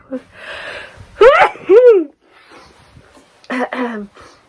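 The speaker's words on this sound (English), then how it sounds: "I'm gonna sneeze." A sharp sneeze bursts out after a quiet pause aboard a narrowboat, followed by a second breathy vocal burst and some soft movement noise nearby.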